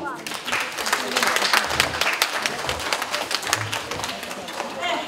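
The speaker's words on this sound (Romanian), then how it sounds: "Să aplaudăm!" An audience claps at a Saint Andrew's Night folk event in Cimislia, a dense ragged applause close by and continuous, mixed with crowd noise and some voices.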